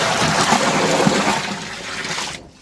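Water gushes in a loud, steady rush into a large cooking pot, about 24.5 litres for a big mutton biryani. The flow cuts off abruptly at the end.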